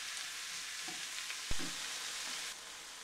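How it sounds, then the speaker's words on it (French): Ground beef seasoned with paprika and garlic browning in a pan for a potato gratin, giving a steady broadband sizzle with a sharp clack of a utensil near the middle and brief stirring scrapes. "je vais faire revenir ça tranquillement pendant environ 5 minutes, 5-6 minutes"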